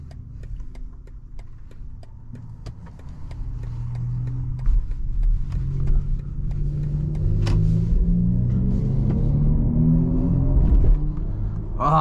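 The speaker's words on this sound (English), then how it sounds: "All right, let's get on the road." A 2024 BMW iX M60 electric car driving on a road, heard from inside as a low rumbling road and tyre noise that swells gradually as it gathers speed, with faint ticking and clicks, no talking.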